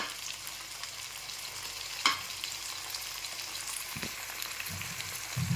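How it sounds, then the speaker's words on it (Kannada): Onions frying in a pan for mutton bheja masala give a steady, close sizzle with a sharp clatter of stirring and a few low thumps near the end, with no talking. "ಸೊ ಈ ಟೈಮಲ್ಲಿ ನಾನು ನೀರುಳ್ಳಿ ಫ್ರೈ ಆಗಿದೆ."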